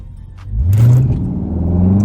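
A Dodge Charger in sport mode launches with its wheels spinning, the engine surging from quiet into a loud, rising roar that holds near and strong to the end.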